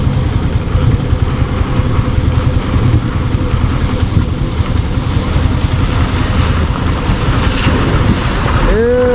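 A water tanker truck spraying water onto a dusty road, its engine a continuous loud rumble under a rushing hiss of spray, close by for the whole stretch.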